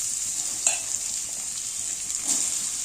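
Onions, chillies and potatoes frying in a tempering of mustard seeds and cumin in a pan, a steady soft sizzle throughout with two brief stirring scrapes, close and alone without talk.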